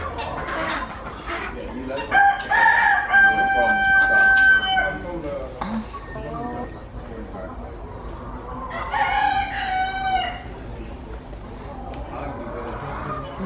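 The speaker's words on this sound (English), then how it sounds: "There's so many chickens." A rooster crows in long drawn-out calls, first early on and again later, while many chickens cluck nearby at Versailles, and people talk intermittently over the flock.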